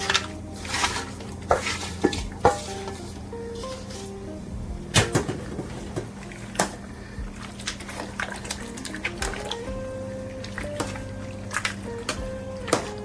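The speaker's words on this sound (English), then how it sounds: "So I'm adding all the cut meat back into the pot." Cut meat goes back into a pot for Jamaican stew peas, heard as close clanks and knocks of a spoon and pot with soft wet plops, irregular and sparse over a faint background hum.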